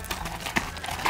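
A horse's hooves step and clop in a quick, uneven rhythm at close range during a training session. Each footfall is distinct and sounds alone, with no one talking.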